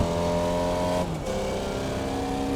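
A Formula Vee race car in iRacing, its buzzing engine climbing in revs, dropping sharply at an upshift, then pulling up again, loud and close in the cockpit.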